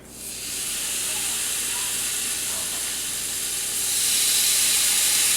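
Bacon slices fry in a pan with a loud, steady hiss that swells after a quiet start and grows louder near the end.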